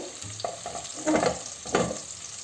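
Chicken frying in a pan, with a soft continuous sizzle and a few louder bursts of stirring or scraping, close and moderately loud, no voices.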